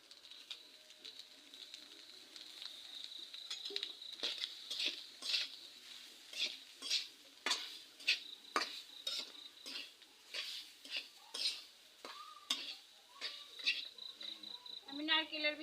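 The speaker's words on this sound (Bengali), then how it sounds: "কড়াইতে নারকেল দিয়ে দিচ্ছি" Grated coconut stirred in a wok with a metal spoon, heard as repeated scraping and clinking strokes in an uneven rhythm over a quiet, close background.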